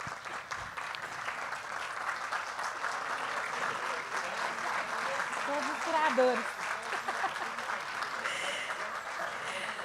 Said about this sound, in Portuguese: Eu peço a todos que se levantem para receber o nosso aplauso